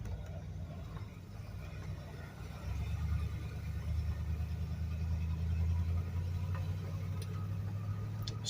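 A 1975 Buick's engine idles in gear with a low, steady rumble that steps up and deepens partway through, faint and smooth with light ticking on top.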